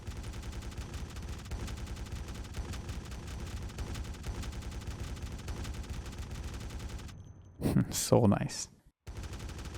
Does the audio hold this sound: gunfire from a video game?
yes